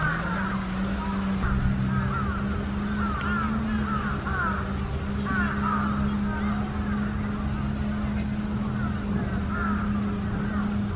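Crows caw repeatedly over a steady low drone of city and water traffic in Tokyo, the harsh calls coming in loose clusters at moderate distance throughout.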